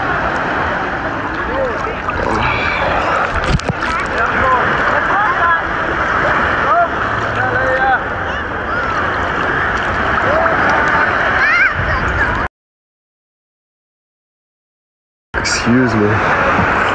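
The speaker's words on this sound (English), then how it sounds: "I can't believe I'm in the ocean right now, guys." Ocean waves and splashing water around a swimmer in warm sea off Jamaica, a steady close wash of surf with scattered splashes, a short gap of silence, and voices talking throughout.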